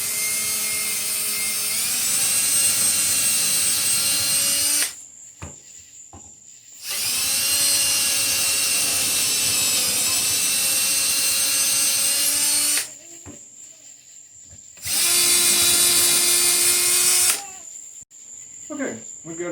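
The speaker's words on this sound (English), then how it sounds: "we're going to go ahead and take our drill in 7/30 seconds, and we'll just open these holes up a little bit" A power drill bores out holes in a small engine's flywheel, whining in three long bursts with short quiet gaps between them. The bursts are loud and close, and the tool has no talk over it.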